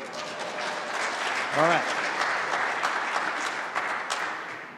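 Audience applause after a correct answer in a Name That Tune game, a steady wash of clapping with someone speaking over it.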